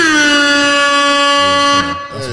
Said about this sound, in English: you got to get air horns for that, too